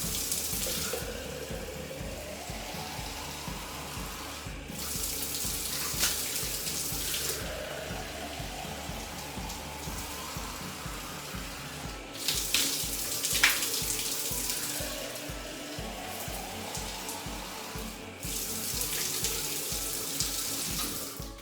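Water poured from a cup splashes and streams steadily down a shower wall while it is being rinsed, a continuous close wash of running water with a few surges.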